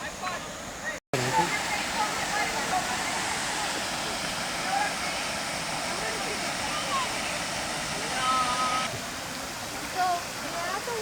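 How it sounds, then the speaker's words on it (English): A small waterfall in a forest preserve rushes in a steady broadband roar, close and continuous, with a brief dropout near the start and people talking and birds chirping faintly over it. "So, we're at the waterfall."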